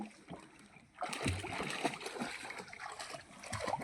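Water splashes steadily as someone swims buoyed by an empty oil gallon jug tied on with cloth, the splashing starting after a quiet second and continuing with occasional louder slaps.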